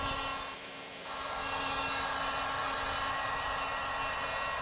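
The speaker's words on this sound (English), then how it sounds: "My heat gun is on the highest setting" A heat gun on its highest setting blowing hot air while heating vinyl wrap on a wheel face, a steady close whooshing hiss with a thin constant whine, dipping briefly near the start.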